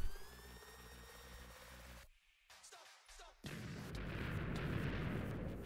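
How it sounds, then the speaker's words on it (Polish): TNT explosion in Minecraft Java 1.8 with a PvP texture pack, heard as a burst of crackling noise after a short quiet gap and a few small clicks, following a steady tonal game hum. "Przejdźmy może do wybuchu TNT, jak to wygląda."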